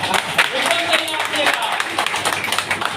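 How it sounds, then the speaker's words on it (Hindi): Audience clapping at a talk, a dense patter of hands at moderate volume with some crowd murmur and voices mixed in beneath it. "एक बार इनके लिए ताली हो जाए।"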